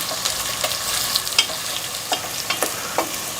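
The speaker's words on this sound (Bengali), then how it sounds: "এখন এখানে 1 কাপ পেঁয়াজ কুচানো দিয়ে দিচ্ছি। পেঁয়াজগুলোকে একটু হালকা ব্রাউন করে ভেজে নিতে হবে।" Chopped onions, about a cup, sizzle in hot oil on their way to light brown while a spoon scrapes and stirs them, giving a steady frying hiss broken by regular clinking stir strokes, close up with no talk.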